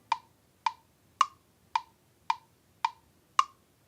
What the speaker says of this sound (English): currently we're listening to the woodblock sound of the metronome